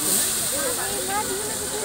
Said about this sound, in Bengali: তো এটা ফ্রাই অলরেডি করছে।